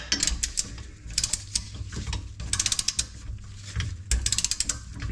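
A ratchet with a Tekton socket tightens lock nuts on a Cusco reinforced differential carrier for a WRX STI, giving close, rapid bursts of metallic clicking in several runs separated by short pauses.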